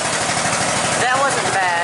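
A John Deere Saber lawn mower engine, with the choke on, sputters and churns close by as it tries to start, a steady loud mechanical drone for the whole stretch.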